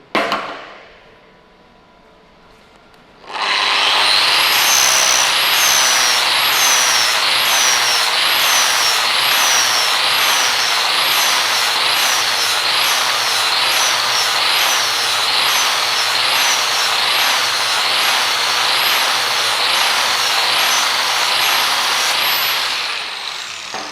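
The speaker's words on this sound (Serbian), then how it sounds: "Flexova brusilica, flap disk na gumenom nosaču marke Ferd." An angle grinder fitted with a Ferd flap disc on a rubber backing pad starts up after a quiet moment, then holds a loud, steady high whine with a rhythmic pulsing grind for about twenty seconds, close and alone.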